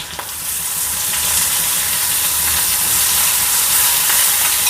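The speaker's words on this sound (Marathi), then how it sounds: "थोडीशी फोडणी टाकूया म्हणजे टेस्ट चांगली लागते" Loud, continuous sizzling and crackling of a spice tempering with curry leaves in hot oil, a dense hiss that holds steady from start to finish with no talking.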